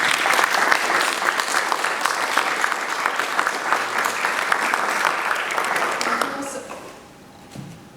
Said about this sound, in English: so give a warm applause.